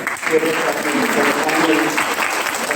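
Audience applause with some cheering at a school inter-section debate contest, steady clapping filling the whole stretch at moderate loudness, with a voice faintly mixed in.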